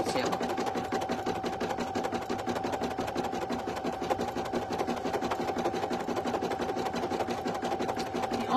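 A single-needle embroidery machine stitches a design onto a premade item, a fast, even mechanical rattle of needle strokes running steadily and close throughout.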